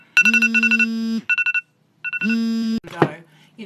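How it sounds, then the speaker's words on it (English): Phone alarm ringing close by as a bright electronic melody of short repeated beeps and sustained tones, in bursts with pauses, ending with a brief voice. "Okay, that's my alarm going off."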